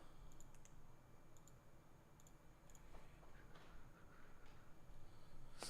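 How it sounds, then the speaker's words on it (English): Quiet, rapid clicking of computer keys during an online poker session, scattered taps in small bursts over a faint steady background hum. "So you typing a lot?"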